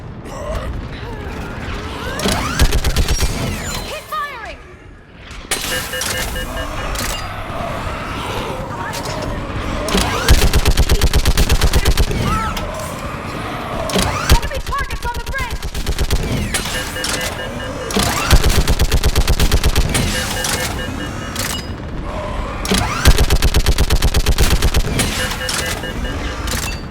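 A chaotic Mass Effect 3 battle with sustained gunfire, mechanical clatter and rapid bursts running almost throughout, loud and dense, with shouted voices mixed in.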